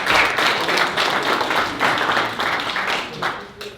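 A room at a village board meeting applauds a school board member with steady, close, fairly loud clapping from a modest crowd that tapers off near the end.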